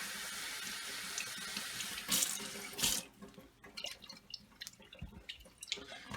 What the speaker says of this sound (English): we're just going to do the same thing we did with the sprouts last night. We're going to drain them. And we're going to rinse them.